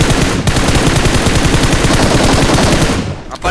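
Rapid automatic gunfire in the mobile shooter game BGMI, a loud sustained burst of evenly spaced shots that stops abruptly near the end.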